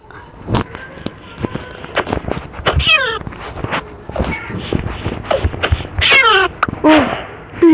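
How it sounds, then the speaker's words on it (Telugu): A Minecraft cat meows again and again, loud and close, with repeated clicks and shuffling footstep sounds from the game between the meows. "ఈ పిల్లి"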